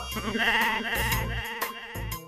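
A person imitates a goat's bleat in a Hindi TV comedy scene, a single wavering, nasal bleating call held for about two seconds, loud and close with no other talk.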